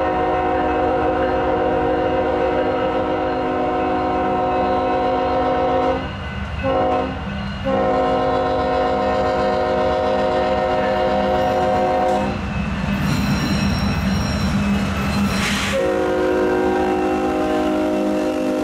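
A heavily powered Union Pacific coal train rumbles loudly and steadily through a crossover, with sustained multi-tone horn blasts broken by short gaps and a burst of grinding, clattering wheel noise partway through.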